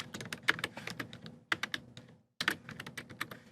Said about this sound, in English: Sorry, you guys, if I'm a slow typer.